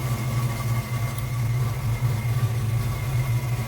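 A car engine idles steadily as it warms up after a busted gas line repair, a low, even hum with a constant drone and no revving, close and continuous throughout.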